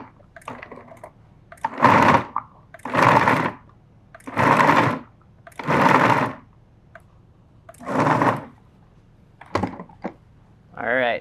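A food processor pulses meat for Lion's Head meatballs: six loud, close bursts of whirring, each a second or so long, separated by short quiet gaps.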